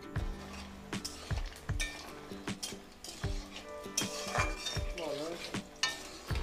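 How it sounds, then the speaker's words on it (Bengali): Chicken pakora frying in hot oil, a steady sizzle broken by repeated sharp metal clinks and scrapes of a utensil against the pan, close and fairly loud, with no talking. "আমি 1 ব্যাচ ভেজে নিয়েছি, এইভাবে আমি বাকিটাও ভেজে নেব।"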